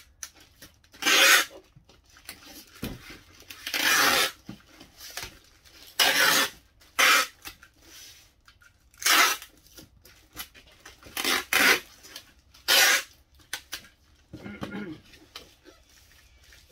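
A tape gun sealing a parcel while packing eBay orders: a series of loud, rasping screeches as tape is pulled across the box, each about a second long, repeated with pauses between.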